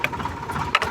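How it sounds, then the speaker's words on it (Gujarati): A tractor on a farm field balanced and driven on one tyre, its engine idling steadily with a mid-pitched clattering hum, close and fairly loud, with a brief louder burst near the end. "એક ટાયર ઉપર ટ્રેક્ટર ફેરવી રાખ્યો છે"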